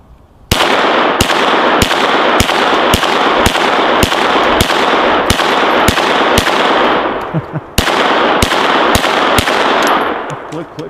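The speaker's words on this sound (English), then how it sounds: "So let's just shoot the thing." Rapid string of sharp, loud pistol shots from a Glock 17L fired at a target, evenly spaced and close, with a brief pause midway before the firing resumes.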